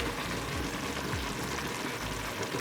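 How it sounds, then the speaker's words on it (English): Grated tomato hits a pan of cooking cottage pie mince filling, giving a steady, fairly quiet sizzle and frying crackle with no voices. "So now I'm adding in the grated tomato"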